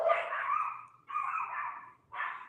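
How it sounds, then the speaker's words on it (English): A dog barks three times, the first bark longest and loudest, the next two following at roughly one-second gaps, clear and fairly close in an otherwise quiet room. "There goes my dog."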